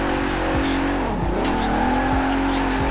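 A heavy car, over two tonnes with a 6.75-litre engine, drifts in Forza Horizon 4, with engine drone, repeated clutch-kick revs and steady tire squeal under loud continuous sound.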